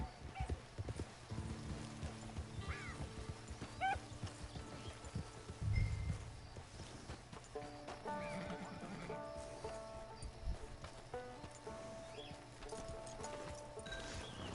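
Video game horse hooves clip-clop at a walking pace, with a horse whinnying and snorting nearby over faint outdoor ambience and occasional bird calls.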